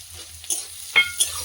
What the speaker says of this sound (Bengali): মাংসটা ক্যাপসিকাম দিয়ে রান্না হচ্ছে